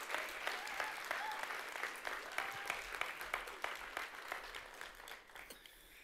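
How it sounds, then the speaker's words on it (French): A crowd at a French youth gathering bursts into warm, enthusiastic applause for a young woman, steady clapping from many hands that holds for several seconds and then slowly fades. "Est-ce qu'on peut l'applaudir bien fort ?"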